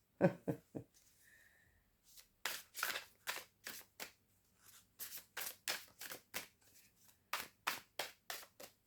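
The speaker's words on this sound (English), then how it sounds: "I love these cards. They're so lovely to shuffle." Crisp riffling and snapping of tarot cards being shuffled, a quick burst then a long run of sharp rhythmic flicks, close and alone in a quiet room.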